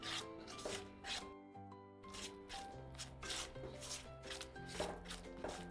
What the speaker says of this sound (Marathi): सतत हलवत राहायचे.